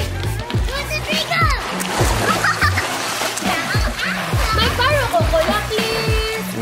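Water splashes in an outdoor subdivision swimming pool as children play nearby, with lively kids' chatter and an adult's voice over the repeated sloshing.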